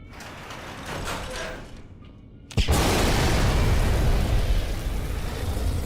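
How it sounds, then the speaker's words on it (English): A flashbang grenade goes off in Fallout: New Vegas, a sudden loud, close blast after a quieter stretch, its roar sustained and dense for several seconds. "Flashbang!"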